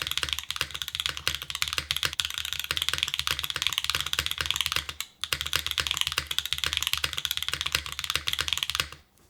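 Dense, fast clacking of typing on a Float65 mechanical keyboard with a mat, close and steady, with a brief pause midway before the rapid keystrokes resume and then stop.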